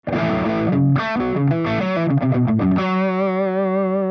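An electric guitar plays through an Audio Singularity Tangie amp set to low gain for a clean rock tone. A quick run of plucked notes and chords ends on a sustained chord that rings out.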